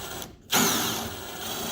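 A drill bit bores into the steel tailgate of a 1966 Pontiac Catalina wagon, a loud close whine starting after a brief pause and holding steady.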